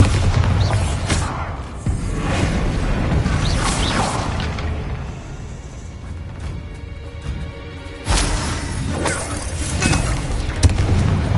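Bombarda blasting spell cast in Hogwarts Legacy, heard as a run of loud booming crashes and whooshing impacts over a dense battle din, with a heavy fresh blast near the end.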